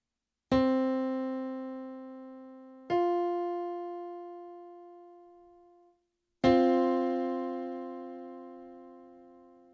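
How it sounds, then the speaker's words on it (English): Two tones played in turn, lower then higher a fourth apart, then struck together, each ringing out clearly and fading slowly in quiet surroundings. "The next interval is a perfect fourth."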